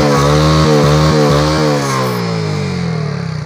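A motorcycle engine revving at a festival, loud and close, with a rising, falling buzzy drone and a few quick throttle blips before settling into a steady idle, no talk.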